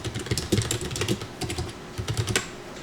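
Keys clatter in quick irregular bursts as slide text is typed on a computer keyboard, close and fairly quiet with no talking.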